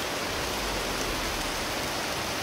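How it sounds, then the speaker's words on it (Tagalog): Heavy rain pours down steadily on a road, a dense, unbroken hiss filling the whole stretch with no voices. "ang ulan talaga yung kalaban natin"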